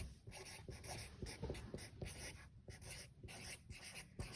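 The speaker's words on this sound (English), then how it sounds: "I'm going to write on a different piece of paper" Pen writing on a piece of paper, quiet scratchy strokes in short irregular bursts, close and faint, with no talking.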